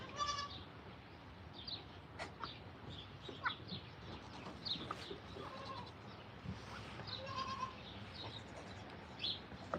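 A billy goat bleats repeatedly outdoors, several wavering calls at moderate distance over steady background noise.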